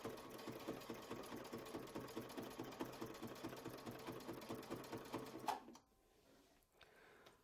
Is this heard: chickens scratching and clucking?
no